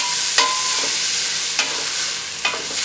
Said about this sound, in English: Stir again and continue to saute for 2 minutes until the shallots have softened